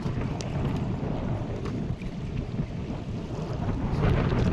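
Strong wind roars without a break over a small river during a Kalbaishakhi storm, a dense, low rumble that swells slightly toward the end, with no voices.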